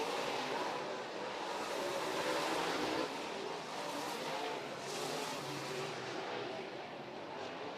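Modified race cars circle a dirt track at an East Bay WinterNationals event, their engines forming a continuous loud roar heard from a distance that swells and fades slightly as the field passes.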